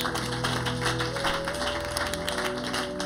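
A church congregation applauding the Lord during a French-language Bible study, a steady wash of clapping hands over a sustained musical tone, with no clear voices on top.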